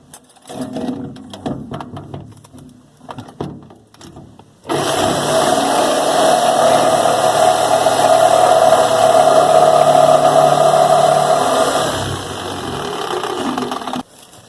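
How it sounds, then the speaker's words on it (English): A power cutting tool bites into the corners of a black iron fuel tank on a 1969 trawler, its steady loud whine running continuously for about nine seconds after a few seconds of quieter clatter and handling noise. "I'm just going to cut these corners out now"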